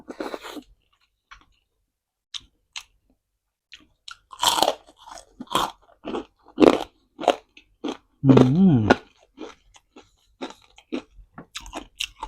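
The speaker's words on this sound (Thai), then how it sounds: "แคบหมูกับกรอบนะครับ" Crispy pork rinds being bitten and chewed close up, with loud sharp crunches in irregular bursts between quiet pauses and a brief voice.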